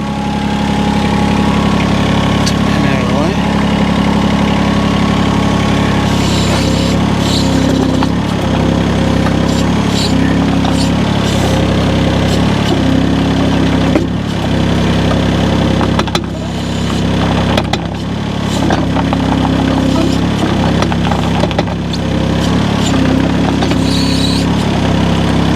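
A mini excavator's diesel engine runs steadily at close range, a loud, constant low rumble and drone with occasional clanks and squeaks as the tracks drive backward and forward.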